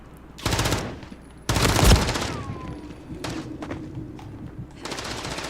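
Gunfire in Call of Duty: Modern Warfare III ranked play crackles in several rapid bursts, loud and close, separated by quieter gaps.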